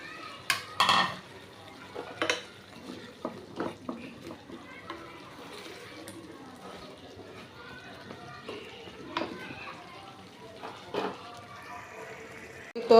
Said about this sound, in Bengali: এই যে আলুটা দিয়ে কষিয়ে নেব ভালো করে।